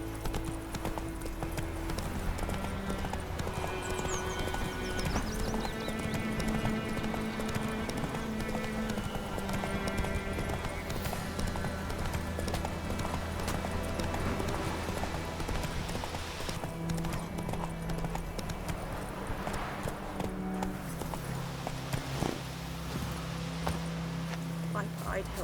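Geralt's horse Roach gallops in The Witcher 3 video game, hooves clip-clopping in a steady rapid rhythm throughout, under game music and voiced dialogue.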